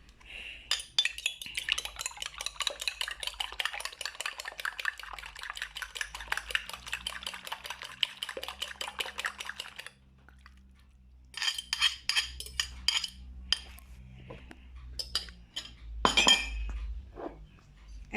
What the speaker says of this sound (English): I'm going to beat the eggs.